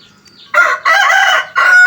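A fighting rooster crows loudly and close by, a drawn-out call broken into several strained segments after a brief quiet start.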